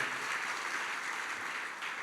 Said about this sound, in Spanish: ¿Qué te parece si le das un aplauso de alabanza al Señor, hermano?